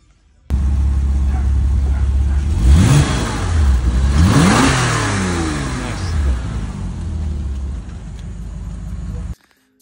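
A Porsche arriving in a driveway, its engine rising and falling through several loud revs with rolling pitch sweeps, then holding a close, rumbling idle before cutting off abruptly.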